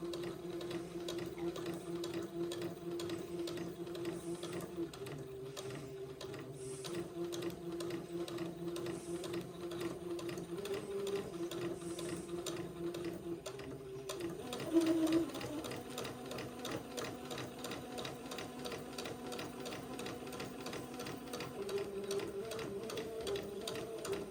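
A sewing machine stitches pin tucks for a pinafore bib, running in a steady, even mechanical whir with a fast regular stitch rhythm that shifts slightly in pitch partway through.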